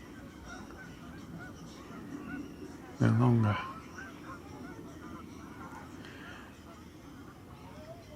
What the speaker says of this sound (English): got some ducks down there, just at the water's edge.